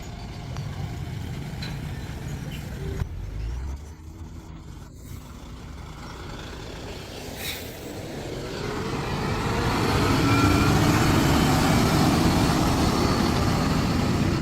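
A 50-ton heavy hauler truck works on a mountain pass, its deep engine rumble steady at first, then swelling louder and heavier toward the end, with a brief hiss partway through.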